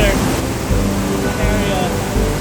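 The falls at Sioux Falls raging with flood water after heavy rain make a loud, steady, broadband roar of rushing water heard from close by, with voices partly present.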